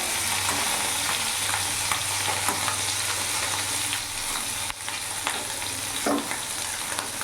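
Puti fish sizzling steadily in hot oil after being flipped, a dense, even frying hiss up close with faint crackles and one short knock partway through.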